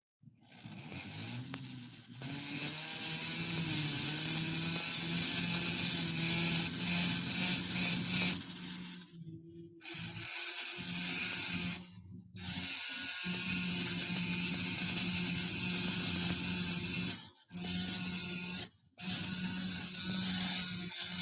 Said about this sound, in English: Got me an 80 grit burr.